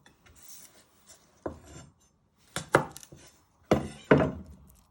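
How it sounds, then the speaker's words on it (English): Knife chopping the ends off a garlic clove on a cutting board, several sharp separate cuts and thunks in a loose rhythm, close and clear with no talking. "So first you're going to chop the ends off."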